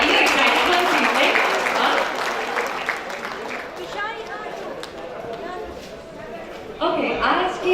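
At the Aadhar Shree Paints annual award ceremony in 2016, an audience bursts into loud, close clapping that thins midway, then swells again near the end, with voices and chatter mixed in throughout.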